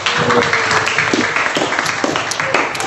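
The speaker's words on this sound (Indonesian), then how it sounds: "tepuk tangan dulu untuk Utari" A classroom of students claps for a classmate during a teaching session, a fairly loud, uneven patter of many hands with some stronger individual claps, lasting throughout.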